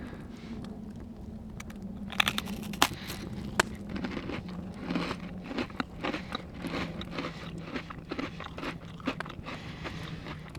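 Crisp crunching bites and chewing of an ice cream sandwich, close to the microphone, repeating irregularly with sharp cracks over a low steady hum.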